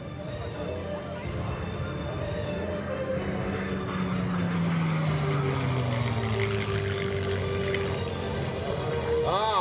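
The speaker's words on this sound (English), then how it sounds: "from your right, inbound, one of the legendary fighters of World War II, the P-51D Mustang." A P-51D Mustang World War II fighter flies by at an air show over New Jersey, its propeller drone building steadily and falling in pitch as it passes, with crowd noise underneath.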